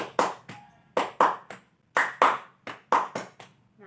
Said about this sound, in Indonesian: Nah, itu namanya tepuk kecerdasan.